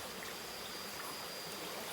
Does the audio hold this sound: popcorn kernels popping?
no